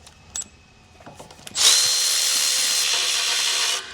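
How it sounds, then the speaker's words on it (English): A power tool whirs up suddenly and runs steadily for about two seconds while removing bolts that hold an Audi A6 axle to the transmission, close and loud after a few quiet clicks. "Lastly, we are going to remove the bolts that hold the axle to the transmission."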